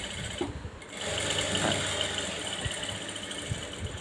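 A sewing machine runs a line of stitching along folded-under cloth, a steady close mechanical whir with faint knocking, preceded by a brief pause and a couple of clicks at the start.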